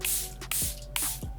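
Three quick hissing sprays of a makeup setting spray mist bottle, evenly spaced, close up and fairly faint, with a small click at each pump.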